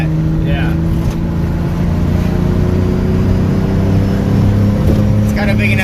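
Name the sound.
2JZ swapped Mazda RX7 FD accelerating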